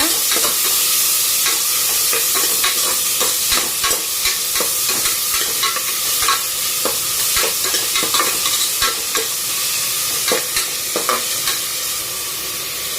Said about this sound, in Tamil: வெங்காயம், தக்காளி போட்டுக்கோங்க. நல்லா வதக்கி விடுங்க.